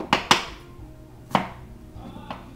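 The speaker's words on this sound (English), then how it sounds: "I'm going to cut up a little more onion for flavor" A knife chopping onion on a board, four sharp close thwacks: two quick ones, a pause, then another and a softer final cut, with quiet gaps between.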